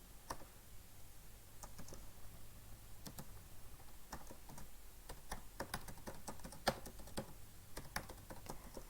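Quiet, steady typing of an HTML document on a computer keyboard, a continuous patter of light keystrokes over low room hiss, with occasional slightly sharper key hits.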